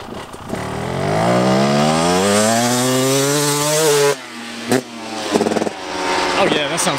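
A Husqvarna TX300 dirt bike accelerates in third or fourth gear along a straight, its two-stroke engine climbing loudly and clearly through the revs, then dropping off before revving again.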